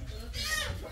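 Chickens clucking in a noisy, close setting, with a burst of higher-pitched squawking in the middle and faint voices in the background.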